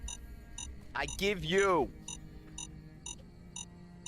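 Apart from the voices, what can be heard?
beeping device in video game Fallout: New Vegas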